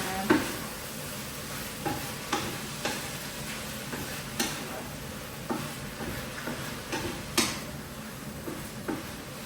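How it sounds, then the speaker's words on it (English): A spatula scrapes and stirs meal-prep food around a sizzling pan, with repeated clattering strokes roughly every second over a steady frying hiss, fairly close and fairly loud. "So now I am going to take my trustable spatula and I'm going to mix this all"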